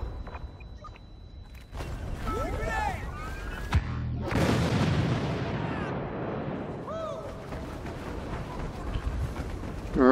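Rocket explosion in the Star Wars Battlefront video game, a sharp boom near four seconds followed by a long rumbling blast and continuing gunfire, with scattered voices and game effects around it.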